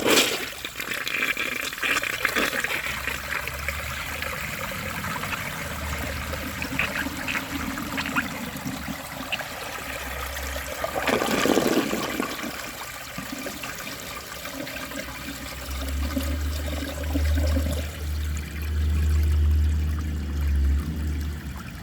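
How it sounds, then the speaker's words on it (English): A 1998 Eljer Savoy toilet flushing with its tank filled to the top, a loud, sustained rush and swirl of water lasting many seconds, then a gurgling drain and refill trickle, with no voices. "I'm going to do another test, or another flush, but this time I'm going to overfill the tank to the very top"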